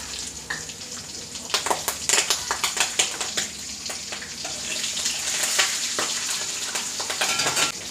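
Mustard seeds, urad dal, cashews, curry leaves and green chilies fry in hot oil for rava kichadi, giving a steady crackling sizzle with irregular pops and stirring scrapes and no voices.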